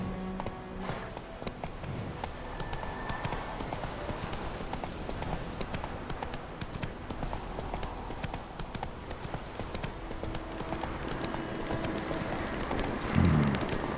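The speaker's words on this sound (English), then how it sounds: "Come on, Roach." Hooves of the horse Roach in The Witcher 3 pound in a fast, continuous gallop rhythm over steady ambient game noise, close and unbroken for the whole stretch, with a brief thump near the end.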